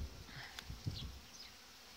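Honeybees buzz at a hive during spring hive wrapping, a faint, close hum with a few passing buzzes and no talk.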